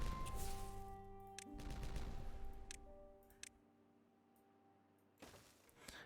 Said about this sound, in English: Let's detonate all of these again.